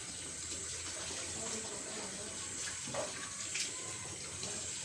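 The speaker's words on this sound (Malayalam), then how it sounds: "ഇനി ഇതാ ഈ കത്തി പിടിച്ച പുകയിലേക്ക് ഈ അരച്ച് വെച്ചത് ഒഴിച്ചു കൊടുക്കുക" A ground paste is poured onto a smouldering fire to make mosquito-repelling smoke, producing a faint, continuous watery rush and hiss heard close up at low volume.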